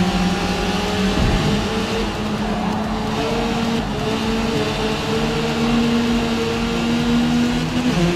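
BMW M3 race cars in Forza Motorsport roar off the starting line together, engines revving hard in a steady, loud pack with rising gear whine as they accelerate away.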